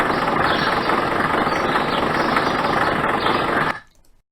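A tractor engine sound effect drones in a continuous, dense mechanical rumble at moderate level for several seconds, then cuts off abruptly into near silence.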